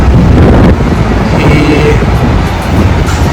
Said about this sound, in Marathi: शिवगाई फेरी चाललेली आहे फेरी जाते